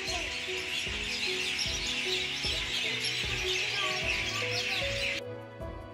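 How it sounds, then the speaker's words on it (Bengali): Small birds chirp and tweet in a park, forming a busy, fairly faint chorus against a steady background hum, with a few soft knocks in the low range. "মানে পাখিদের কিচিরমিচির শব্দেই না মন ভালো হয়ে যাবে।"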